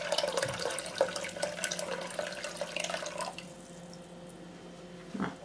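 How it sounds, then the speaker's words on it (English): Water runs and drips into a container as soap is being readied for melting at home, a steady trickling for about three seconds that stops, leaving a quieter room with faint handling sounds near the end. "Might just grab a little bit more water to put in there."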